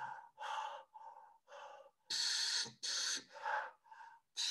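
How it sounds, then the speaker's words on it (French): Loud, close breaths through the mouth during a freediving equalization drill, a series of short rhythmic inhales and exhales separated by brief pauses, with no talking. "on va gonfler l'autevent par le nez et on va respirer par la bouche"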